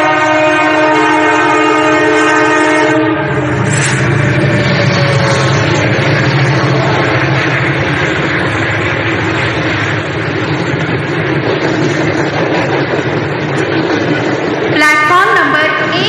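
A slow local train bound for Karjat pulls into platform number 1, a loud rumbling of rail cars with a sustained horn blast at the start and another shrill horn near the end, while a platform announcement plays over it.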